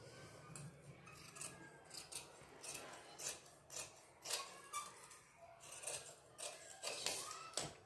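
Scissors snip through blouse fabric in a steady run of short crisp cuts, close and fairly quiet, with faint rasping of cloth between strokes and no talking.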